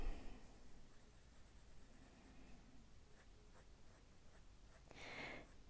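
Prismacolor soft-core coloured pencil strokes on paper, a quiet continuous scratchy scraping with short repeated strokes, close and faint, ending in a brief louder burst of rubbing.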